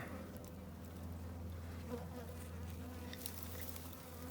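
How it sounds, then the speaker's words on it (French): Faint, continuous buzzing of honeybees climbing into a syrup feeder on a Dadant hive, a quiet steady hum without speech. "les abeilles sont déjà un petit peu en train de monter dans le nourrisseur"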